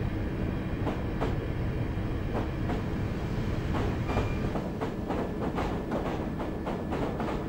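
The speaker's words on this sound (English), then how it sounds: "this is the district line for Train Sim" A London Underground District Line train in Train Simulator 2019 runs steadily, with a continuous rumble and rhythmic clickety-clack of wheels over rail joints throughout, loud and close.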